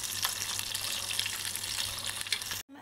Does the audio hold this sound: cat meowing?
no